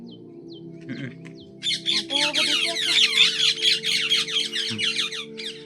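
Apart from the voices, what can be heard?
sparrows chirping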